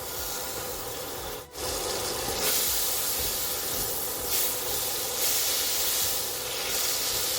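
A pat of butter sizzles in a non-stick frying pan, a steady close hiss that swells and settles in soft waves after a brief dip, with no voices.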